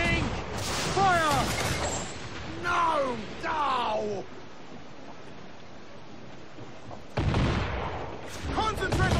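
Heavy ship cannons boom during a naval battle in Assassin's Creed IV Black Flag, with deep blasts rolling beneath shouted voices and sea noise. The firing comes in bursts, loud and near, mixed with crew shouting.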